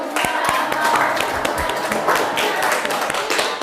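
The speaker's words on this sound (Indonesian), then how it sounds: "Boleh tepuk tangan untuk temannya ya" Classroom students clapping for a classmate group after its presentation, a brisk uneven patter of hands with a few sharp taps, faint voices mixed underneath.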